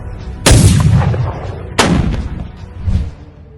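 Artillery fire on the southern front in Ukraine: two loud, close booming blasts a little over a second apart, each with a long rolling decay, followed by a fainter distant thud.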